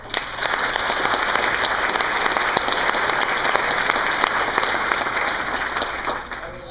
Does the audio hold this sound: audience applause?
yes